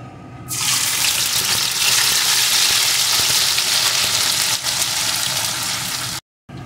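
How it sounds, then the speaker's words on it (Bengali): Beet paste drops into hot oil with fried whole spices, and a sudden loud sizzle bursts in and holds steady, then cuts out briefly near the end, with no voices. "ফোড়নগুলোকে একটু ভেজে এর ভিতরে যে বিটের পেস্টটি তৈরি করে রেখেছিলাম ওই পেস্টটিকে দিয়ে দেব।"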